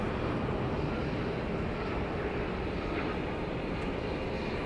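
Airliner rolling out after touchdown at Dallas Love Field with spoilers raised and thrust reversers deployed, a steady broadband roar that holds evenly throughout without a break.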